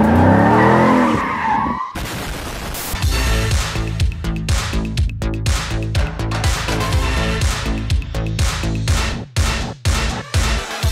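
A Porsche Cayenne spins donuts, its engine revving hard in rhythmic surges while the tires squeal and skid almost without pause, loud and close, after a brief rush of noise at the start.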